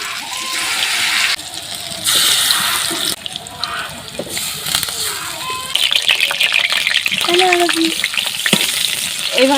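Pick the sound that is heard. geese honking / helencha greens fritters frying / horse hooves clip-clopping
helencha greens fritters frying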